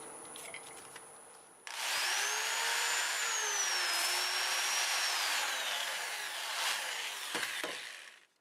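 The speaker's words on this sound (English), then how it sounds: "I just need to sand that up" Sanding a small black locust turning spinning on a wood lathe gives a steady, close abrasive hiss with a faint whining tone, running for several seconds before stopping.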